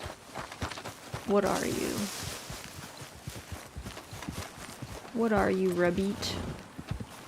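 In Red Dead Redemption 2, a heavy draft horse's hooves clip-clop at a walk in a steady, fairly soft rhythm while a person talks over them throughout.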